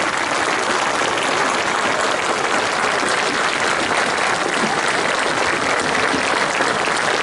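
A concert audience applauds a violinist at a classical concert in Delčevo: dense, steady clapping from a full hall, sustained and even for the whole stretch with no talk over it.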